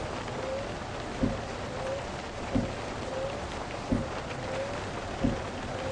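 Heavy rain pours steadily in the Minibus Simulator Vietnam driving game as a County limousine minibus travels through the storm, with a dense, constant hiss and a soft low thud recurring at even intervals.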